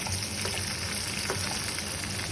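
Green chilies sizzle in hot oil in a pan, giving a steady, close frying hiss with faint crackles and no talk.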